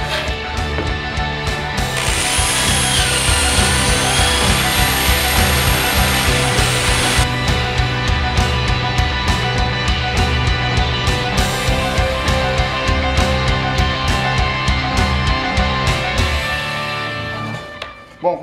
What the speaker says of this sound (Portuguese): o jeito vai ser furar e cortar com a tico-tico